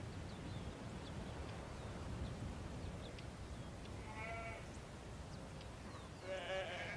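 A flock of sheep in the Andes bleats a few times at a distance, a couple of wavering calls rising over steady outdoor wind and rumble.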